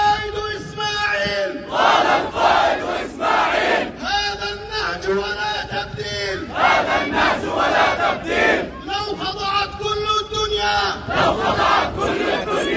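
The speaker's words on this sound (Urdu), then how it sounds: "اسرائیلی سفارت خانے کے باہر سینکڑوں لوگوں نے جمع ہو کر آزاد فلسطین کے نعرے لگائے" Hundreds of protesters chant Free Palestine slogans outside an Israeli embassy, loud rhythmic massed voices rising and falling in repeated bursts, close and continuous.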